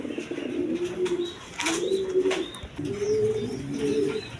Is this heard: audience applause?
no